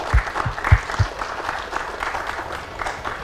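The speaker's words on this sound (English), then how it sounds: "give them a round of applause." Audience at a New College of Florida Independence Day panel event applauds, a few sharp claps standing out near the start before the clapping settles into a steady, moderately loud wash that fades slightly toward the end.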